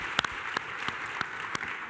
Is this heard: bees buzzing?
no